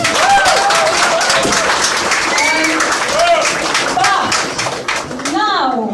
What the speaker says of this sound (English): give Jane a big round of applause